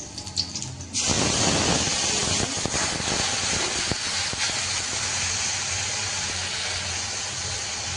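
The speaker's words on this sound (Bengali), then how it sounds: "আদা টমেটোর যে পেস্টটা করেছিলাম কড়ার মধ্যে দিয়ে দেবো, তেলের মধ্যে দিয়ে দেবো।" A ginger and tomato paste drops into hot oil in a kadai, bursting into a loud sizzle after a quiet second, then settling into a sustained close hiss with occasional clinks.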